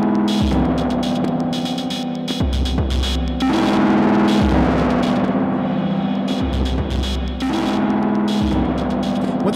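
A loud, distorted electric guitar plays chords and notes about every two seconds through a Walrus Audio Melee distortion and reverb pedal, each one washed in long, echoing reverb.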